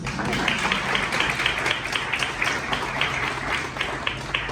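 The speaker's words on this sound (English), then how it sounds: "another round of applause for her, please" An audience claps at a student awards ceremony, a moderate, even patter of many hands with rhythmic peaks, heard at medium distance and continuing steadily throughout.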